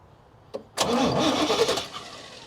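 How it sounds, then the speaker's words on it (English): A 1987 Chevy square body truck engine cranks over without starting because no fuel is reaching it: a brief click, then a loud steady churn of the starter that runs close up and continuous for nearly two seconds. "Why don't you go ahead and give me a little bit of crank, Sal?"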